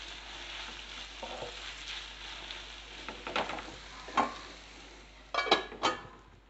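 Onion and egg curry with ginger-garlic paste frying in a pan, a quiet steady sizzle with occasional sharper clinks and stirring scrapes of a utensil against the pan.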